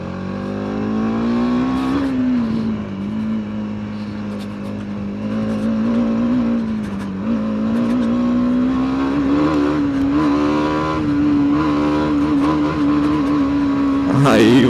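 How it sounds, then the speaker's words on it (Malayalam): A TVS Apache RTX 300 motorcycle engine revs hard toward redline on a rough road. It makes a loud, close, sustained drone whose pitch climbs and dips and then surges sharply at the very end. "വേറെ ഏത് വണ്ടി പറ്റും ഇത്രയും മോശം റോഡിൽ റെഡ് ലൈൻ ചെയ്യാൻ?"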